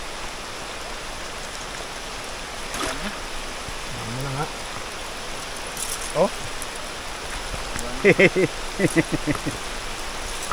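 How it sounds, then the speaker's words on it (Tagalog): Heavy rain pours steadily in an outdoor lagoon setting, a constant hiss of falling water with a few voices speaking over it. "Lakas na ng ulan."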